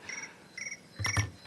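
A cricket-chirp phone ringtone sounds in a public hearing room as three short, bright trilling bursts evenly spaced, the last overlapped by a brief low thump.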